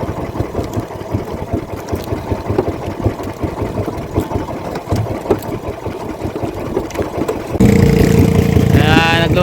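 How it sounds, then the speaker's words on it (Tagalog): A fishing boat's engine runs at slow speed with a steady, chugging mid-pitched drone, loud and close, before a brighter burst of noise near the end. "mga mababagal pong takbo ng makina"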